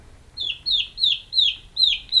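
A single chick in a homemade brooder gives a distress call: loud, sharp descending peeps repeated about every half second, six in a row, close and clear against near silence.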